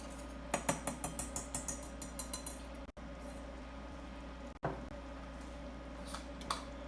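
Whisk on a pan of jus de lie sauce, a quick run of rhythmic metallic clinks and taps close by, then quieter scraping with a few stray knocks.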